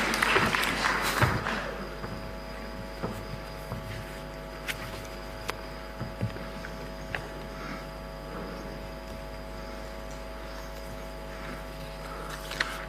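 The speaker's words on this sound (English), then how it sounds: "We can encourage him with a clap as he comes up." An audience at an Africa fertiliser summit in Kenya claps as a speaker comes up, with a brief burst of applause at the start that quickly fades to a few isolated claps over a steady electrical hum.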